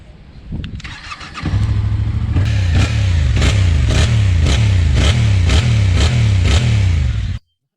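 Yamaha Tracer 700 motorcycle engine cranks and fires, settles into a steady idle, then revs repeatedly in evenly spaced sharp blips, loud and close, with no talk.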